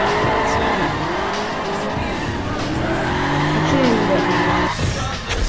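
Car engine roars steadily in Forza Horizon while tires squeal in long sliding arcs, loud and close, with someone talking over the driving.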